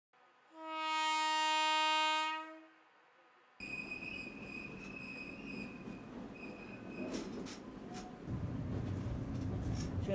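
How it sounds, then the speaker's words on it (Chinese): The small train of the Alishan Forest Railway in Taiwan sounds a long, loud horn blast, then rolls along with a steady rumble of wheels on the track and brief metallic squeals. "现在我们搭乘阿里山小火车上山"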